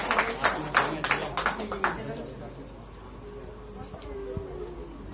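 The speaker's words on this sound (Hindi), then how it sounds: "शिवम जी के जोरदार तालियां।" An audience claps for a speaker at a student gathering, with a burst of loud, uneven applause in the first two seconds that quickly thins out. Faint room noise and scattered sounds remain after it.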